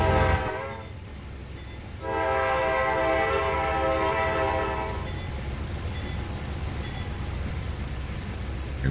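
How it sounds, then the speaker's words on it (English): Automatic train whistle on a local railroad in Trainz 2022, a loud sustained multi-tone horn blast that swells in at about two seconds and holds for a few seconds over steady rumbling train noise, then fades back into the running sound. "Automatic whistle here."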